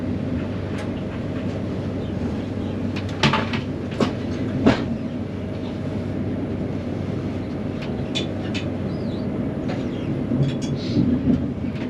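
A passenger train rolls toward Dalmeny station, its loud, steady rumble broken by sharp clatters and knocks from the wheels and carriages.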